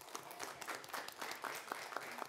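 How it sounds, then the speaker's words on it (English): A small group applauds at a city council meeting, producing quiet, scattered clapping that stays fairly faint and sparse for a couple of seconds. "So I think we owe them a round of applause for that"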